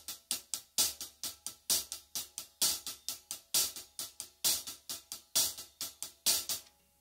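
Right hand alone on a hi-hat or ride cymbal at a fast rock 'n' roll tempo, crisp bright strokes repeating evenly around four per second with regular accents, close and alone, fading at the end.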